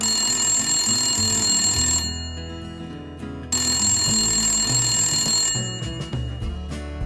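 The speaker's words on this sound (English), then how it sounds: "when the phone rang" A telephone rings with a bright electronic tone, two ringing bursts separated by a short pause, set against music.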